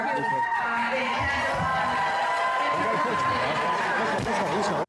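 A large crowd at a political event cheers and shouts continuously, a dense roar of many voices that stays loud and near throughout before cutting off abruptly at the end.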